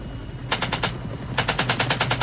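Automatic gunfire from the 1987 war film Full Metal Jacket: a short burst of about four rapid shots, a pause, then a longer burst of eight or so evenly spaced shots, loud over a low rumbling background.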